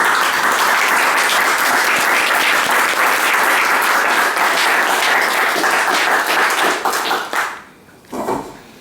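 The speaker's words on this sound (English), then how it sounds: "Can we just give them a round of applause?" An audience at a history lecture gives a loud, sustained round of applause, dense and even for about seven seconds before quickly tapering off, followed by a brief faint sound near the end.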